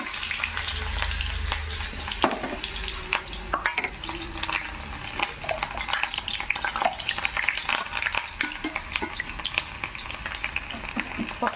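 Dal frying in a pan in a home kitchen while a suji cake is being made, a continuous close sizzle with scattered clinks and scraping stirs of a utensil against the pan.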